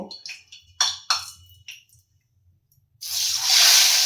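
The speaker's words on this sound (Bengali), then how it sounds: "পমফ্রেট মাছগুলোকে আগে আমি ভেজে নেব" Pomfret fish hit hot oil in a pan with a sudden loud, close sizzle that keeps hissing steadily, after a few earlier clatters and taps.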